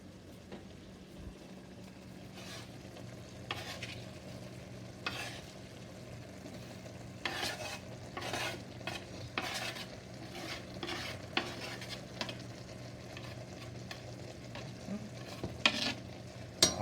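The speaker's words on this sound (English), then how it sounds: "I'm gonna stir this down and let it get translucent like it's doing now" Chopped ginger sizzles quietly in a garlic butter sauce while a utensil scrapes and stirs the pan in irregular bursts, with a low steady fry underneath and no talking.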